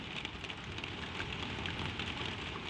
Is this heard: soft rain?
yes